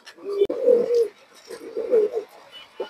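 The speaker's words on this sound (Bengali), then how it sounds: "কবুতরের ডাকটা দেখেন দর্শক মাশাআল্লাহ" A Bagha pigeon coos close by in two low, throaty rolling phrases separated by a short pause, with a sharp click just before the first.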